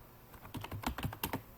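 Fingers tap out a name on a computer keyboard while building a flex banner design in CorelDraw, a quick run of soft, close keystrokes after a brief quiet start.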